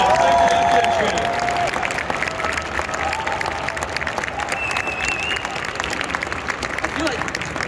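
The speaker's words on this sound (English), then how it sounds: "A big round of applause for all of our cosplay contestants here" Applause and cheering for cosplay contestants at the Dreamhack Hannover Cosplay Championship, loud clapping from a crowd with whoops and voices rising over it, strongest at the start and continuing steadily.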